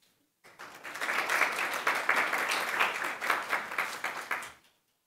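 Audience applause welcoming a speaker at a panel event, a burst of many hands clapping that swells quickly, holds steady for about four seconds, then cuts off.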